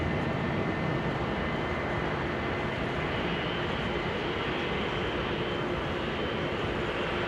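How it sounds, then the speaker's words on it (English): An Air Serbia Airbus A320 lines up on the runway at Amsterdam Schiphol, its engines giving a steady, moderately distant broadband hum on a showery day. "Air Serbia flight 261 to Belgrade, lining up."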